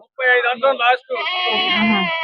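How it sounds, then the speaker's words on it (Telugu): Goats bleat at the Chillakallu livestock market in NTR district, Andhra Pradesh: a few wavering, nasal calls close to the microphone, then one longer drawn-out bleat, loud over a busy background. "ఇక్కడ వచ్చేసి నాలుగు మేకలు ఎనిమిది పిల్లలు ఉన్నాయండి"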